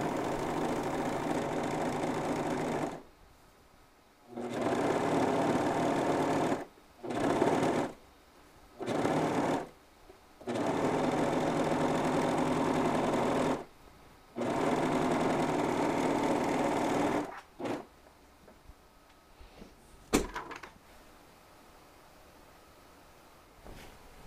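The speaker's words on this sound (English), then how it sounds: "Serge or zigzag the seam allowance to finish that inside seam" A serger or sewing machine zigzag-finishing the seam allowance of a shirt runs in several steady whirring bursts of varying length, separated by short quiet pauses. A few faint clicks follow near the end.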